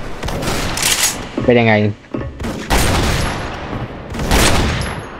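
Gunshots from an M82 Barrett rifle: several loud, sharp blasts, one at the start and more around three and four seconds in, with a person talking between the shots.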